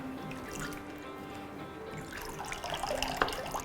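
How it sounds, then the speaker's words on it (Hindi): A cloth bundle of soaked lentils is dipped and swished in water at a tap, giving soft sloshing and dripping sounds that grow into brief splashes near the end, close and fairly quiet with no speech. "अब इस पोटली को अच्छे से पानी में डिप करके गीला करना है।"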